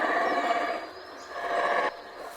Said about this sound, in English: It's not just males that howl, the whole family joins in.